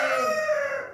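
A rooster crows loudly and close by in a single sustained call that fades at the end, with no talking over it.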